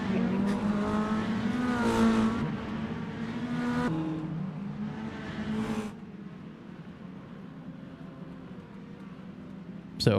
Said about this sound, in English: engine 4-cylinder serenade.